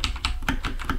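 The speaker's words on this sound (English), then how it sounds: "Loud keyboard." Loud computer keyboard typing during a Minecraft minigame session: five or six quick, sharp key clacks in a fast, even rhythm, close up and alone.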